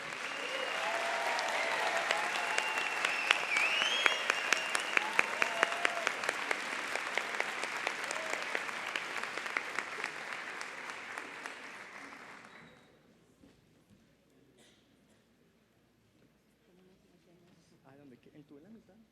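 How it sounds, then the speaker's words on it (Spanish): Audience applause at a tribute during the Bogotá Book Fair 2018: a loud, dense, steady round of clapping lasting about twelve seconds, then cutting off to near silence with faint voices. "un aplauso para Florence Thomas"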